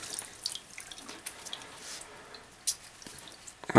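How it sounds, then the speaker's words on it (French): A smartphone is lifted out of water, giving soft sloshing, drips and faint splashes close by, ending in a louder splash of water as it comes free. "Quoi qu'il en soit, je le sors de l'eau."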